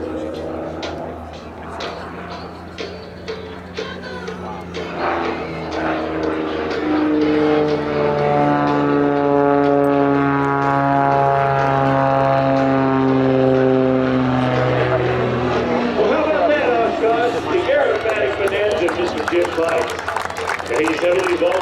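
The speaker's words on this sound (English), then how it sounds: "Watch carefully as he demonstrates the capabilities of this Aerobatic Bonanza" An aerobatic F-33C Bonanza propeller airplane performs an eight-point roll at an air show. The engine is loud and sustained, with a clear harmonic drone that falls in pitch and then swells again. An announcer talks over it in the background.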